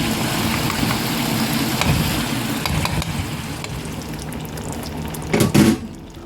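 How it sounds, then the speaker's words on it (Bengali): A spice mixture for chicken keema sautés in a covered pan, giving a continuous, fairly loud sizzling hiss with a short clatter near the end. No one speaks. "এখন একটু মশলাটা কষানো হোক, কিছুক্ষণ আমি ঢেকে রাখছি।"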